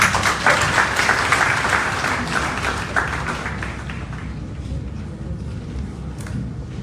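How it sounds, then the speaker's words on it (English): An audience applauds at a program marking the Day of the African Child in Liberia, steady dense clapping that is loud at first and slowly thins and fades toward the end. "Clap for him."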